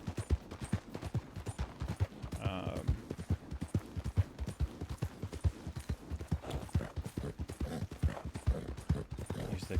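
Horse hooves clip-clopping at a steady riding pace in the Red Dead roleplay game WildRP, a quiet, even rhythm of hoofbeats continuing throughout.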